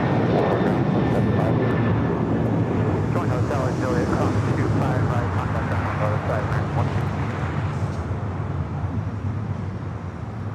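A United Airlines Boeing 737-900ER jet takes off at LAX. Its loud, steady engine roar fills the whole stretch, with wind buffeting the microphone and faint voices underneath.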